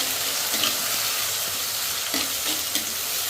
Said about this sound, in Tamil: நல்லா வதங்கட்டும். தக்காளி நல்லா மசிஞ்சு